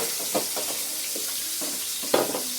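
Potatoes and eggplant frying in hot oil in a wok give a steady close hiss, broken by a few louder stirring bursts, with no one talking.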